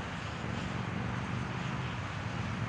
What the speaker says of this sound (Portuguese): É um avião que está lá chegando, ó.